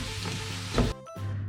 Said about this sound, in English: I'm adding around 7 tablespoons of yogurt.